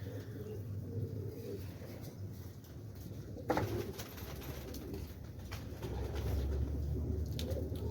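Pigeons coo softly at a feeding spot, low murmuring calls repeating over a steady background with light pattering and a brief knock partway through.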